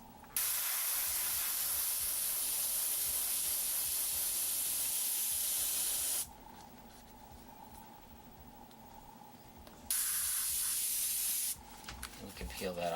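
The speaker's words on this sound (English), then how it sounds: "Spray that solid black." Steady, loud airbrush hiss of paint spraying in long bursts, stopping for several seconds before resuming briefly and then starting again.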